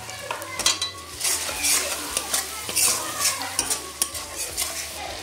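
Onion, ginger and garlic paste frying in oil with salt, turmeric and chili powder for an egg kebab curry, with a loud spoon stirring and scraping against the pan in irregular strokes over a soft sizzle and quiet steady background music.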